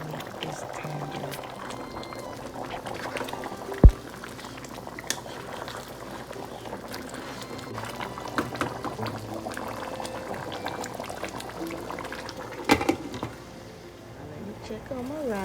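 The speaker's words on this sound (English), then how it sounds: "Cooking this on high heat just because I want it to boil and help me faster." A pot of curry goat boils hard on high heat, giving a steady bubbling and simmering wash with a few sharp clinks, while a voice talks over it throughout.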